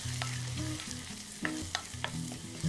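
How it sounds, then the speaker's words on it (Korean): Chili powder stir-fried in hot oil for chili oil, steady close sizzling and frying with a few light scrapes of the spatula against the pan. "고춧가루 1과 3분의 1스푼 넣고 볶아서 고추기름을 내줬다"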